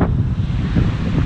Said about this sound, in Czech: Jaké vlny!